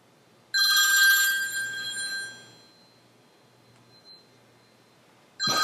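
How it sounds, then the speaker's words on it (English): A cell phone rings with a bright electronic tone in one long burst that fades, then another ring cuts in at the end, loud against a quiet room. "Oops, forgot to shut off my cell phone."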